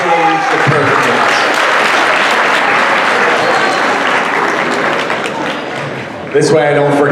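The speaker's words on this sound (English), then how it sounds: "Huge round of applause for Alicia Perkins." A school assembly audience claps loudly for a student of the month, the applause continuing for several seconds, dipping briefly and then giving way to a voice at the end.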